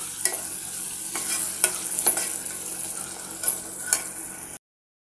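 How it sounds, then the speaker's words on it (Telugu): A spoon stirring a tomato and chana dal curry in a pan, with a soft steady sizzle under occasional clinks and scrapes against the pan, close and alone with no talking. "ఇప్పుడు ఇదంతా మొత్తం బాగా ఒకసారి కలబెట్టేసుకొని మూత పెట్టేసుకొని టమోటా అనేది మగ్గనివ్వండి"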